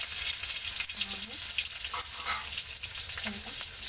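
Green chili and ginger frying in hot oil, a continuous close hissing sizzle with faint stirring, steady and even across the few seconds, no words spoken.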